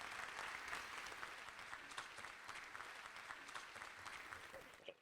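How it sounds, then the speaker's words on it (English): Audience applause at a transit organization's annual meeting, a steady patter of many hands clapping from a moderately sized crowd, fairly even throughout and fading slightly at the end, with no talk over it. "So just please clap that up, because that is a tremendous deal."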